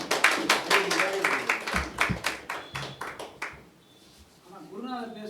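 Audience clapping hands at a spiritual gathering, a burst of sharp, fairly close claps that thins out and stops, followed by a speaking voice.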